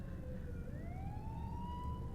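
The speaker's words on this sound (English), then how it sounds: "I'm sorry about the sirens. It's just part of this area." An emergency vehicle siren wails steadily from outside, rising slowly in pitch, distant but clear over a constant low rumble of traffic with no talking.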